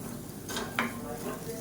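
Ingredients are stirred and mixed with salt in a frying pan for a lunch box dish, a spoon scraping and clinking against the pan over a soft sizzle, brief and close.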